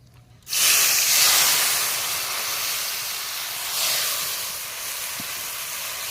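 Spice paste hitting hot oil in a pan with mustard seeds and slit green chillies, a sudden loud sizzle that bursts in and settles into a steady, close hiss.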